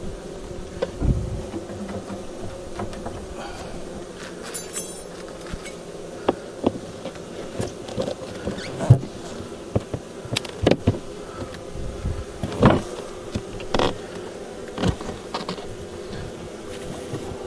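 Honeybees swarm and buzz around a hive while the colony is moved, a steady dense hum with scattered louder bursts and knocks of handling close by, no talk.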